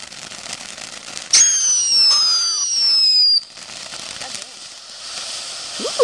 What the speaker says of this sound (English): Yay, boring Virginia fireworks.